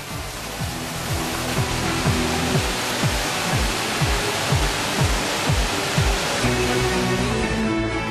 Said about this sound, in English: With the push of a button, there's also a waterfall, almost like in a real grotto.